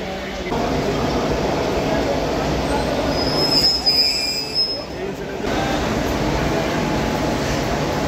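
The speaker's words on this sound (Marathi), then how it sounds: "आता इंजिन जॉईंट झालेलं आहे म्हणजे." A locomotive is coupled to a waiting passenger train in India, a steady loud railway rumble with a high wheel squeal and a brief clank midway, heard close by without clear talk.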